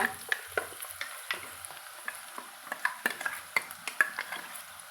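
Ground masala paste is stirred into cooked vegetables in a frying pan for Tamil kara kulambu, with repeated spoon scrapes and clinks over a continuous close sizzle.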